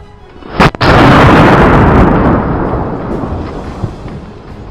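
A homemade 12-gauge shotgun fires a live round outdoors: one sharp, very loud blast followed by a long, broad rumbling decay that fades over several seconds.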